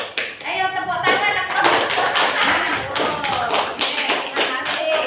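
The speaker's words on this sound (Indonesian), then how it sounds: "Ayo tepuk tangan." Sixth-grade pupils in an Indonesian primary school classroom clap their hands together in a dense burst of sharp, rapid claps that carries on for several seconds, with a voice briefly heard among them.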